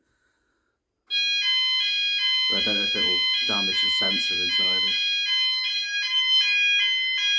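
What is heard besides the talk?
fire alarm sounder going off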